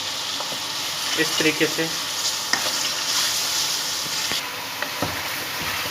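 Chicken fries with onion, ginger-garlic paste and spices in a pan, a loud continuous sizzle with scraping stirs and spoon knocks, while a voice speaks briefly.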